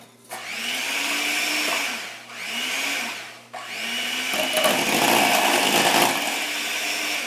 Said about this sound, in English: Okay, so I'm going to use my hand mixer this time.